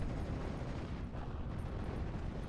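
Heavy artillery fire in a WWII strategy game battle, heard as a steady, dense, low rumble of distant blasts that continues throughout without speech.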